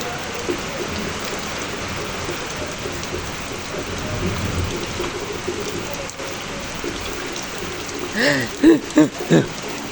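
Steady rain hisses throughout while low thunder rumbles beneath, with a few louder, deeper bursts toward the end.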